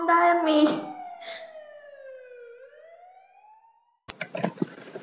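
An ambulance siren wails in a long falling then rising tone, loud and close at first, over a brief burst of voices before it cuts off abruptly into louder clattering noise.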